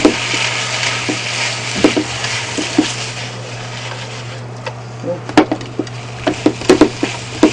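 Blanched udon noodles stir-fried in a pan over a home burner give a steady, close sizzle with repeated sharp scrapes and taps of the utensil against the pan, clustered more tightly toward the end.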